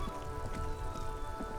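Steady rain patters across a surface in the video game Disco Elysium, a continuous even hiss with soft droplet texture and faint tonal background music underneath.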